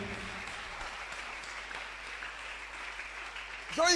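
Congregation cheering and applauding at a Ghanaian church fasting and prayer service, a fairly faint, steady wash of clapping and crowd noise with a brief louder swell at the end.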